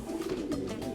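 Teddy-breed pigeons coo in soft, throaty, repeated murmurs, close and steady, with a faint rustle underneath.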